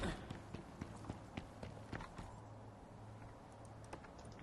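Horse hooves clip-clopping in the survival video game Icarus, a quiet, fairly regular run of light thuds close by, fading to a softer patter over a low steady hum.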